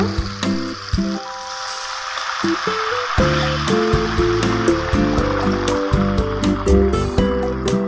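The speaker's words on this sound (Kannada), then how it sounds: "ಇದಕ್ಕೆ ಸ್ವಲ್ಪ ನೀರು ಹಾಕೋಣ" Water pours steadily into a pan of fried semolina for upma, a continuous close splashing fill with no voices.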